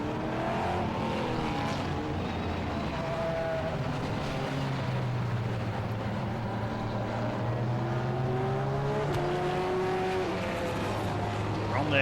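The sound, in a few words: classic touring race cars on green flag lap, Silverstone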